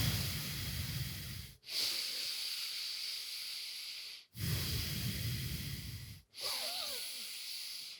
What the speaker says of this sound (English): Belly breathing first.